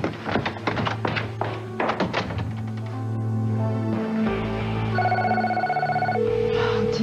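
A telephone rings with a sustained tonal electronic ring after a run of sharp thunks and taps, the ringing fairly clear and near in an indoor television drama scene.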